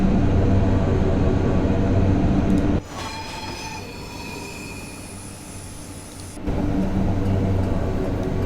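An express passenger train bound for Portsmouth Harbour in Train Simulator 2018 runs with a steady rumble of wheels on rail, dropping to a quieter interior drone with squealing tones midway, then returning to the louder run.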